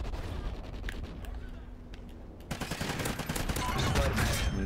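Gunfire in Call of Duty: Ghosts: scattered single shots at first, then a sustained stretch of dense automatic fire with a voice speaking over it.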